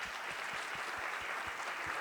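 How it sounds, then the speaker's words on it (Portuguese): Audience applause after a panel presentation at a sustainability forum, a steady, moderately faint wash of clapping filling the whole two seconds with no voices. "queria mandar uma salva de palmas para a brilhante apresentação dos três."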